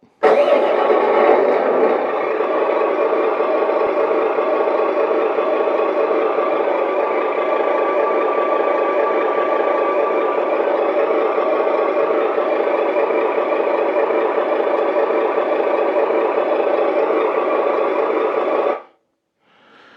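An RC truck's electronic sound kit plays an engine start-up followed by a steady loud idle drone through a small speaker, running evenly for about eighteen seconds before cutting off abruptly.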